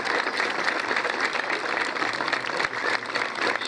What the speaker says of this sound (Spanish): El aplauso para la gente de La Playosa